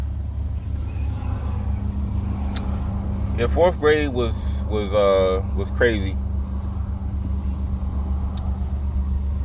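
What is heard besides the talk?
road traffic heard from car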